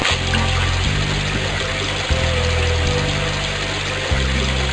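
Water pours steadily in the Freddi Fish 4 adventure game, a loud continuous rushing stream with low pulsing music shifting beneath it, no voices.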